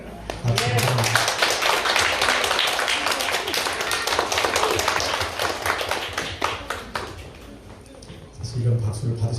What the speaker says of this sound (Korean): 우리 권은주 집사님 오랜만에 뵙는데 박수 한번.